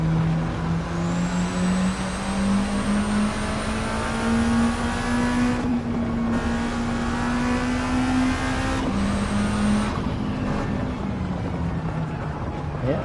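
A Lancia Delta with a swapped engine racing in Gran Turismo 7, a loud steady engine drone holding near-constant revs with a brief dip around shifts, plus faint tire and wind noise.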